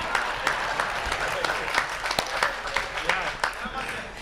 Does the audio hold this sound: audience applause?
yes